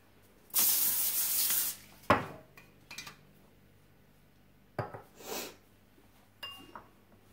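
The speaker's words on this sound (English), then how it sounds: "And then I'm going to spray it with some pan." Several short hissing sprays from an aerosol can of cooking spray onto a pan, close up, in bursts of varying length with pauses between, plus faint clinks of kitchenware.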